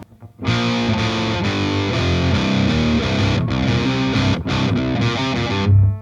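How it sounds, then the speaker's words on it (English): A heavily distorted electric guitar plays the palm-muted intro of a song, loud and thick with sustained chugging chords and two brief cuts, with no voices. "the first thing is the intro is palm muted strings."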